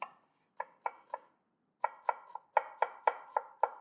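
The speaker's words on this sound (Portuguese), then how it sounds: "Eu vou cortar a cebola." An onion is being chopped with a knife for a risotto: a series of crisp, close blade strikes on the board, three quick chops, a brief pause, then a steadier run of about eight more. No one speaks.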